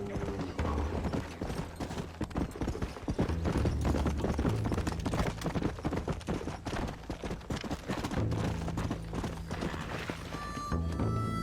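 Galloping hooves clip-clop rapidly and steadily as a horse is ridden hard in the video game Red Dead Redemption. A brief whinny-like sound cuts through, and the gallop runs loud and continuous to the end.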